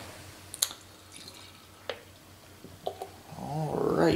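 Beer pouring from a freshly cracked can of Flying Monkeys Live Transmission milkshake IPA, with a few scattered drips and clicks first, then a swelling, fizzy gurgle of liquid filling a glass toward the end.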